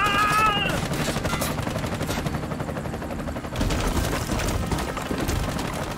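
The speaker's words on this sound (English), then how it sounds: "I'm under heavy fire" Heavy, sustained gunfire in the shooter game Bright Memory Infinite, a dense and loud continuous barrage with a brief tonal sound at the very start.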